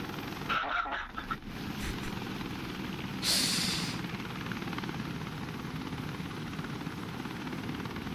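Helicopter in the video game WARDOGS: a steady, loud rotor drone runs through the whole stretch, with a brief burst of other game noise near the start.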